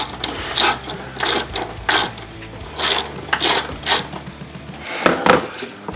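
A hand ratchet loosens the J-hook bolt on a battery hold-down during an Optima GX470 battery install, a series of loud, close clicking strokes, each a short burst of pawl ratcheting with brief gaps between.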